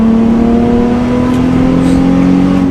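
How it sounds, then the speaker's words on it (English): A Nissan 350Z sports car accelerates hard in third gear, its engine note a loud, steady, rising drone heard close up from inside the car with no talking. "So going into third gear right now and accelerating"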